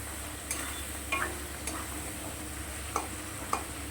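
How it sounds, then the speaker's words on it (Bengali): Masala for a katla fish curry with potatoes fries quietly on low heat in a covered pan, a faint steady sizzle with a few light clicks of stirring. "গ্যাসটা কম করে দিয়ে ঢেকে যতটুকু মশলা কষানো বাকি আছে কষিয়ে"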